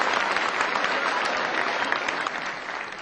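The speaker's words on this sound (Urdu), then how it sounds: "زوردار تالیوں سے آپ اپنی مہمان شاعری کا استقبال کیجیے" Audience applause welcomes a poet at an Urdu mushaira: dense, continuous clapping from a crowd, steady and fairly loud throughout, with no voices on top.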